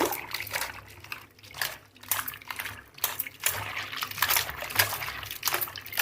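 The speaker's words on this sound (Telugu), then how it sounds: "నీళ్ళతో నీళ్ళు వేసి కడుక్కోవాలి నీళ్ళు వేసి శుభ్రంగా కలుపుతాను" Continuous close splashing and trickling water, with repeated sloshing bursts as cauliflower is swirled and rinsed by hand.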